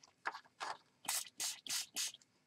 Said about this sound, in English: I'll spray a card so you can see what it looks like